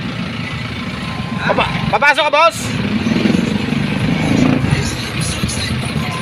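A mineral water delivery truck engine idles with a low steady rumble nearby while someone speaks briefly over it.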